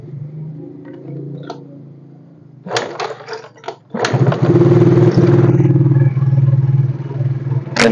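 A Yamaha Mio Fino scooter with a sputtering, stalling fault and a freshly replaced part cranks with clattering attempts, then starts and settles into a loud, close, steady idle.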